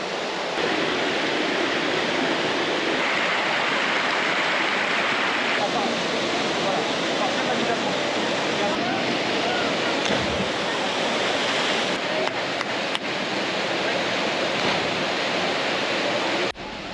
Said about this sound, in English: Our last stop of the day was the Acomat waterfall.